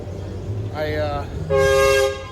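At Six Flags America, an amusement park train ride sounds two short, loud tooting horn blasts close by, the second stronger and longer, with voices talking underneath.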